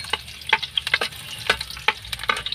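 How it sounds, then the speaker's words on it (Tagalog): Garlic sautés in a pan outdoors, with crackling sizzle and quick scraping, clattering stirs coming in irregular bursts, close and moderately loud, no talking. "Ayan, igisa po natin ang bawang."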